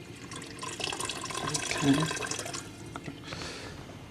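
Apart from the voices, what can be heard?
boiled water poured into pot of harira soup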